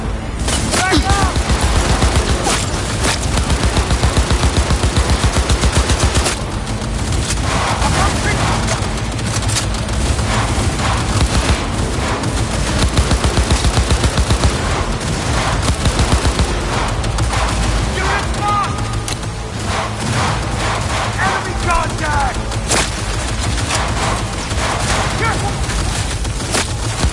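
Dense, continuous gunfire in a Cyberpunk 2077 firefight, rapid automatic bursts and booms layered loudly for the whole stretch, with voices shouting over the battle.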